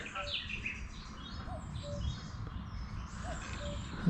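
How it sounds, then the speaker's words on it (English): A cuckoo calling in a wooded wetland beside a mere, its repeated two-note call carrying from a distance amid a bed of other birdsong and soft outdoor ambience. "Cuckoo really going for it."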